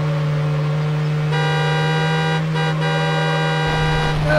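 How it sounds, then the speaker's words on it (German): A car horn in the racing video game Need for Speed HP2 blares as a sustained, steady tone that rises in pitch, loud and continuous over engine drone. "warum wird die Hupe immer heller?"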